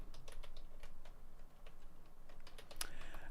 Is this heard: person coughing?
no